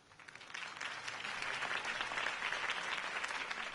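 Crowd applause in the video game Batman: The Telltale Series, a steady wash of many hands clapping that swells in over the first second and holds, heard alone without talk.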